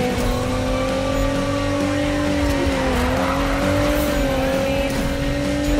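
A car engine in the racing video game Need for Speed holds a steady, loud drone with a slight dip in pitch midway, continuous throughout without a break.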